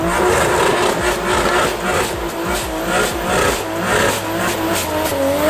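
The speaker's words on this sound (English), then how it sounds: "we've never heard that thing like do a burnout like that" A 1200 whp Mustang with a swapped Barra six-cylinder does a burnout, its engine roaring loud and sustained while tires squeal and scrub continuously close by.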